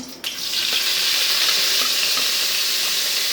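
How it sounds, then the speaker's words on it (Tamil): Mustard seeds and urad dal hit hot oil with a sudden crackle, then settle into a steady, close sizzle that continues without pause. "கடுகு உளுத்தம் பருப்பு கொஞ்சமாக போடுறேங்க"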